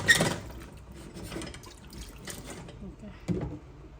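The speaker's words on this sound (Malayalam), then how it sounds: "ഞാൻ ഇതിലേക്ക് വെള്ളം ഒഴിക്കുന്നുണ്ട് വെള്ളം കുറച്ച് നല്ലോണം ഒഴിക്കുന്നതാണ് നല്ലത്" Water poured into a pot of tapioca for kappa puzhukku, a soft gushing splash in short bursts, loudest at the start and again near the end, with faint talk in the background.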